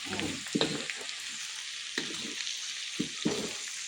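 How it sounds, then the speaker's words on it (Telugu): Garlic frying in oil for a Korameenu fish pickle, a steady hiss of sizzling with a few soft stirring scrapes and clunks from the pan, close and moderately loud. "వెల్లుల్లి అంతా బ్రౌనిష్ కలర్ వచ్చేంత వరకు వేయించుకోవాలి"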